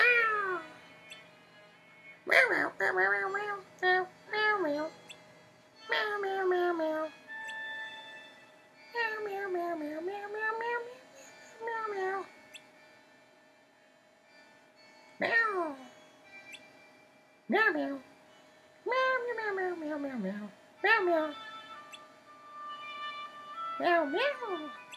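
A human voice imitates a cat, giving a string of separate sliding meows in bursts with short gaps, close and clear, some drawn out and wavering.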